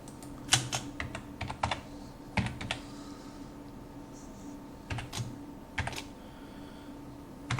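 Close-up clicks come from a computer keyboard as HTML code is typed, scattered keystrokes arriving in quick clusters with short pauses between them, fairly quiet and with no talk.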